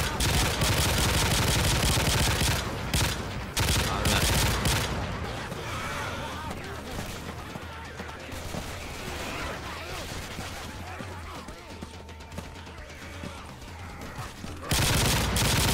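Gunfire in the video game Left 4 Dead 2, dense rapid shooting at the start and end with a quieter stretch of scattered shots and game noise between, with players talking over it.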